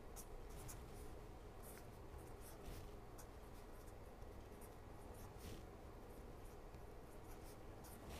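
Pen or chalk scratching steadily while a cosine-squared formula is written out during a lecture, a continuous faint scraping with repeated short strokes throughout.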